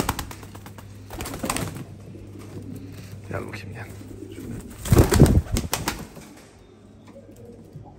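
New-breed pigeons coo low and soft with brief bursts of wing flapping, the loudest flurry near the middle, under a man's nearby speech.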